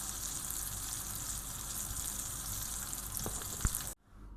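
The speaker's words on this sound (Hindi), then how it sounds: "शैलो फ्राई करने हैं इसको, डीप फ्राई नहीं होना है।" Shami kebabs shallow frying in oil in a pan give a steady, close sizzle that runs unbroken, with a couple of sharp pops near the end before it cuts off abruptly.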